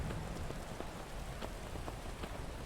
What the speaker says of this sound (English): Man, it's pouring rain.